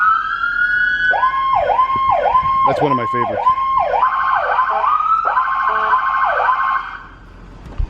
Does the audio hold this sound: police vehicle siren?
yes